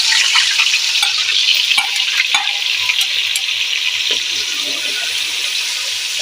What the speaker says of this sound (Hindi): ऑयल हमारा गर्म हो चुका है, हम इसमें प्याज शामिल करेंगे